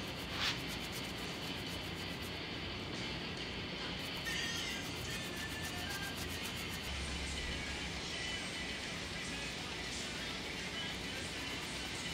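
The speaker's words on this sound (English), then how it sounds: "I'm going to try to get all this dirt off, surface rust, and get these cleaned up as best we can" Scrubbing dirt and surface rust off old Mazda RX7 fuel hoses with degreaser, a continuous rough brushing and rubbing noise, close and steady, with a brief sharper scrape near the start.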